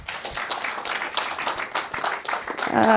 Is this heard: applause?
yes